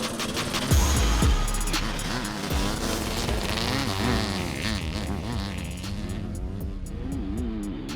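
Two big dirt bikes, a Black Panther and a Megalodon, drag race with an engine roar off the line. Buzzing engine whine then climbs and dips through gear changes, loud and close, without speech.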